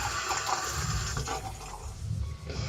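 Hands are rinsed under a running tap during a facial cleansing and skincare routine: a steady, close rush of splashing water that continues throughout, with no speech.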